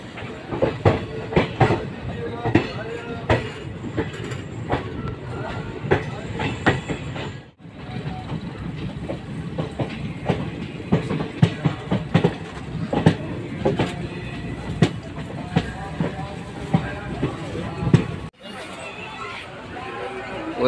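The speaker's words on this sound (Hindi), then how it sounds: "ट्रेन भी यहाँ से रवाना हो चुकी है" A passenger train departs a station in Bihar, its wheels giving a steady rhythmic clickety-clack with occasional faint squeals, while people chatter and talk close by throughout.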